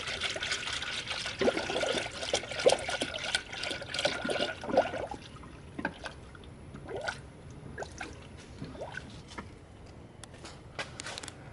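Coolant pours into a car radiator during a radiator replacement, a splashy trickling gurgle that is busier at first and then settles into a quieter, intermittent dribble.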